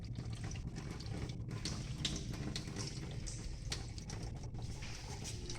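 Water runs and drips in a granite sink, a continuous close trickle with small splashy ticks scattered through it and no talking.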